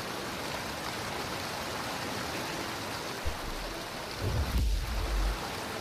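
Waterfall in the game Jedi Fallen Order: constant broadband rushing water, with a few low thuds near the end and no talk.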